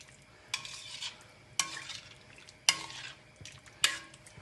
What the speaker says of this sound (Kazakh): Жақсылап араластырамыз.